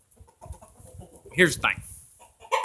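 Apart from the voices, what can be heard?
rooster clucking in barn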